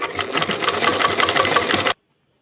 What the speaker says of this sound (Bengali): এইভাবে উল্টো দিকে সেলাই দেব, একটা কাপড় আগে একটা কাপড় পেছনে রেখে।